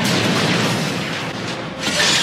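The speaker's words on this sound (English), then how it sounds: "we see that Kroenen gets blown back and impaled on an iron" A deep, sustained roar fills the moment a grenade goes off in the Hellboy film, loud and continuous, with a rumbling tail and no one speaking.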